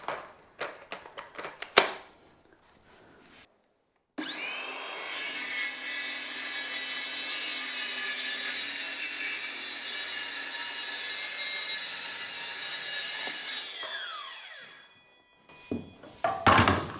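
A hand saw cuts steadily through wood during an old Edinburgh council flat renovation, a continuous rasping stroke for roughly nine seconds, framed by a few knocks and handling clatter before and after.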